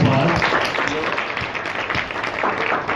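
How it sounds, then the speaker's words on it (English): An audience applauds a founder at a gathering, a dense patter of clapping filling the room for the whole stretch while a voice speaks over it. "Give her a round of applause."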